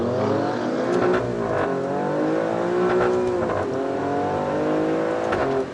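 Alfa Romeo Stelvio QV SUV with its bi-turbo engine accelerating hard in race mode, a loud, close, continuous roar climbing through the revs with brief dips at each gear change, no talk over it.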